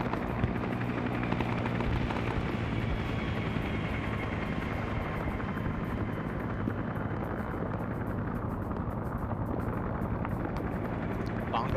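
A helicopter in a video game gives off a steady, loud rotor drone with a deep engine hum. It runs without a break for the whole stretch, and faint voices sit under it.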